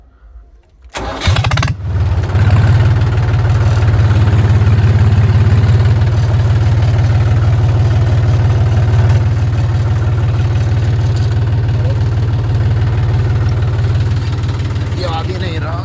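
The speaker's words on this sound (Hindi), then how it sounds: "कर लेते हैं अपना ट्रैक्टर स्टार्ट।" A farm tractor in a field cranks over and catches, then settles into a loud, steady, low diesel idle that runs on close by for over ten seconds without a break.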